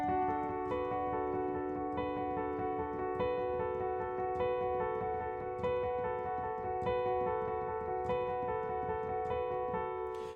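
Piano plays the intro riff of a song in an easy arrangement, with steady repeated notes over sustained chords, moderately quiet and continuous with no talking.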